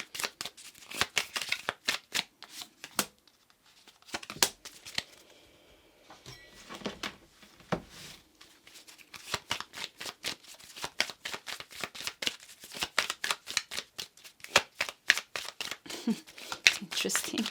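A tarot card deck shuffled by hand in a card-reading session, giving dense rapid riffles and bursts of flicking cards with short pauses between rounds, close and fairly loud, no talk.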